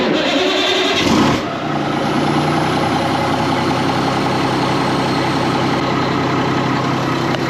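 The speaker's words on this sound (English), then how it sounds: "who doesn't love a good cold start?" An ERF truck's diesel engine cranks and catches at about 1.5 seconds, then settles into a loud, steady, close idle.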